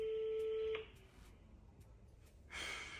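A telephone rings on a call with a steady electronic tone that cuts off abruptly, followed by quiet room noise and a brief rustle near the end.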